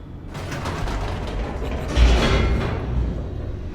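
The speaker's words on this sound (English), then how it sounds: "The elevator raced downward, plummeting towards an unknown fate." An elevator descends in The Stanley Parable video game, a steady mechanical rumble with grinding, creaking gear noise that swells slightly midway and keeps running throughout, loud and alone without speech.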